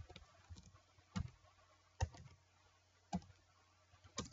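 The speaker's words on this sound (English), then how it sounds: "So right here, I'll type my IP address" Computer keyboard being typed on to enter an IP address, a few sparse, faint clicks spaced about a second apart in a quiet room, with no talk.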